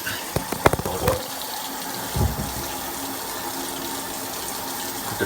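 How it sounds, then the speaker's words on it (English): Tap water runs steadily into a bathroom sink while teeth are brushed, a continuous close hiss and splash with a few sharp clicks and knocks in the first seconds. "Let me turn off the water."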